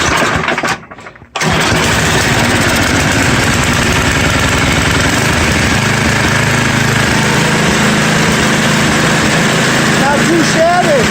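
A small engine, with a cold muffler and the choke on, catches after a brief pause and settles into a loud, steady, rough idle close by, with a faint voice at the very end.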